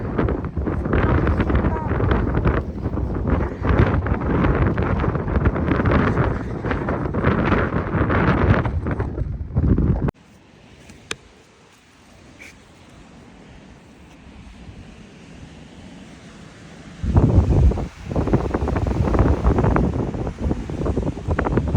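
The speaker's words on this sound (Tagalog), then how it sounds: "Lakas ng hangin." Loud, roaring wind on Mt. Pulag buffets the microphone for about ten seconds, then drops to a low rumble before gusting hard again near the end.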